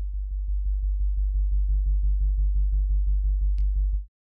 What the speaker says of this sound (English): And now we have a really strong pure sine wave